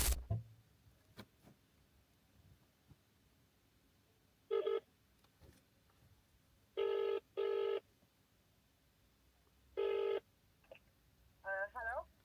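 A phone call to a takeaway restaurant: a quiet line carries several long, evenly spaced ringback tones, heard close and isolated, before a brief burst of faint speech at the end.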